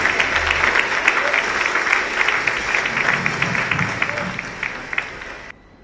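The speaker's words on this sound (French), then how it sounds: "sous vos applaudissements" A crowd applauds steadily for several seconds, the clapping thinning slightly before cutting off abruptly.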